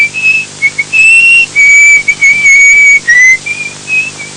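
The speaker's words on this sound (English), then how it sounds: "Sometimes I whistle." A person whistles a wavering, high tune in several short phrases with brief pauses between them, clear and close, with no talking.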